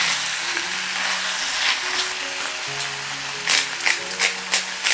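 Bangers (sausages) frying in a pan give a steady, bright sizzle throughout, with a few louder crackling spits near the end.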